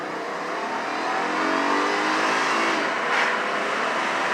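A 1995 Mazda Lantis Type R with a 170-horsepower V6 accelerates hard, its engine note climbing steadily and loud from inside the cabin with a brief shift, no voices.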